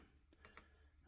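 Sonel MIC-15k1 insulation meter giving a single short, high electronic beep, close and brief against a quiet background.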